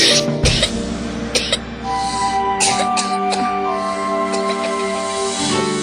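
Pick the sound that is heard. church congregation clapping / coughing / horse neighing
coughing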